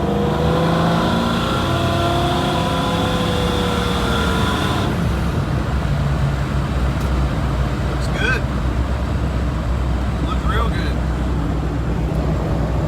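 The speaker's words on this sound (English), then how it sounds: "Now we're going to roll into it. About half throttle." A supercharged automatic Foxbody car pulls in first gear at about half throttle, its engine rising in pitch over several seconds and then easing off into a steady rumble, loud and close, with a voice speaking over it.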